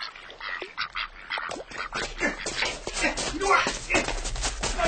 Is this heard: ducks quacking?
yes